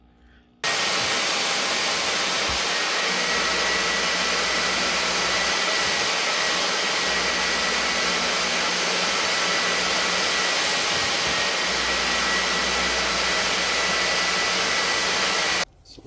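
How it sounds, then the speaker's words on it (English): A vacuum running steadily to clean a car's interior carpet with the seats removed: a loud, even, close whoosh that holds for about fifteen seconds, then cuts off. "Doing a quick interior cleaning on the carpet."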